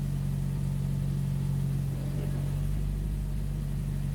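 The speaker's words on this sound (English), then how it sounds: "It's idling at 1500 right now" A car engine idles high at about 1500 rpm, steady with a constant low hum and slightly elevated pitch, no talking.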